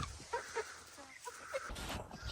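Fluffy chickens cluck softly nearby in a loose rhythm of short, scattered calls over a low, continuous background hum.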